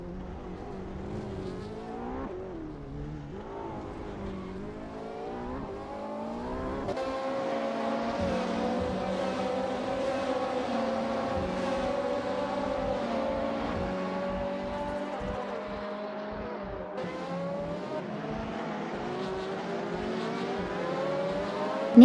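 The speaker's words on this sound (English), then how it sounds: "The car's speed and cornering capabilities should help in navigating through the field, but Basu 321 will need to improve overall p" Race cars lapping in a video game race, including a 2003 Peugeot 206 RC, engines droning and shifting pitch steadily under continuous revving, with a rising whine toward the end.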